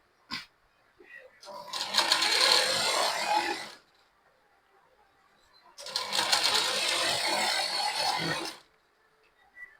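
A sewing machine stitching blouse fabric, running in two sustained bursts of whirring with a quiet pause between them.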